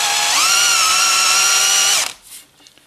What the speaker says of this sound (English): I'm going to drill a little bit of this out